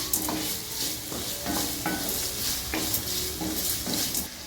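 Tomatoes sautéing with salt in a pan for rava khichdi, a continuous sizzle broken by several scraping stirs of a spoon, close and steady throughout.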